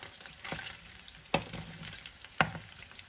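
Pork cooks in a pan as fat renders out, giving a soft, steady sizzle broken by a few sharp scrapes and taps of stirring.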